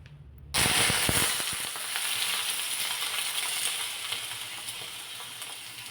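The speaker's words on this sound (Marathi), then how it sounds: "आता हे जे तेल उरले ना, यामध्ये बटाटा घालायचा" Potato slices tipped into hot leftover peanut oil burst into a loud sizzle with crackling pops, then settle into a steady, slowly fading frying hiss.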